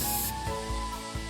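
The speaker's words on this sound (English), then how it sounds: "covered myself with bug spray" Bug spray is released in one short, sharp aerosol hiss in the visual novel Summer Pockets, then cuts off while soft background music carries on.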